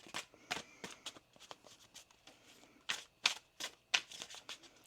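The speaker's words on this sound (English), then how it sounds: "One more shuffle here, please and thank you." A deck of tarot cards shuffled by hand, a series of quick, crisp riffling and slapping bursts in an uneven rhythm, close and fairly quiet, with no talking over it.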